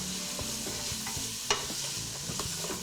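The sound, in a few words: stirring sausage with Italian spices in a frying pan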